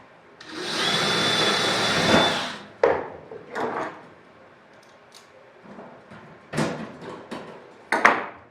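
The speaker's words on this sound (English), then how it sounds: "And go ahead and drill this corner." A power drill bores into the corner of an aluminum fuel tank for a Bearhawk experimental airplane, one sustained loud whine lasting about two seconds, followed by scattered clanks and handling knocks of tools and metal parts nearby.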